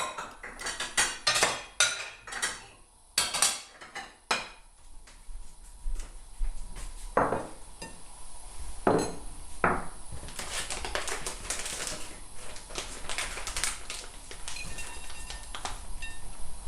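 Bowls and dishes clatter as they are taken out and set down for serving a Thai turkey curry, a run of sharp ceramic clinks and knocks in the first few seconds, then scattered clatters over a steady kitchen background, with no talking.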